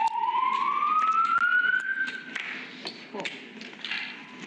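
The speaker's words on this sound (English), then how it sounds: "Maybe that's the fire alarm for this game." An alarm sounds inside a busy casino poker room: a rising electronic siren-like tone sweeps upward then fades among clinks and background chatter, moderately faint under the room's hubbub.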